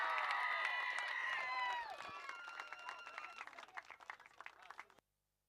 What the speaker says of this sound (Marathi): मी सगळ्या खेळाडूंना विनंती करतो की टाळ्या वाजवा